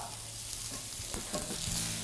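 Shrimp sizzle in a hot pan as they are stirred, with a steady frying hiss and occasional scraping clinks of a utensil.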